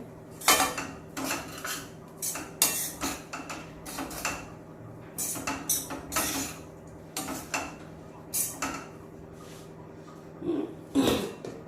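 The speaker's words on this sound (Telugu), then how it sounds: "ఆపేసాక లెమన్ అయితే పిండేసుకోండి. ఇంకా అయిపోయింది, మొత్తం కలిపేసుకోవడమే." Cooked puffed-rice bori upma with squeezed lemon being mixed in a pot: a metal spoon scrapes and clinks against the pot in repeated irregular strokes, close and clear, with no talking.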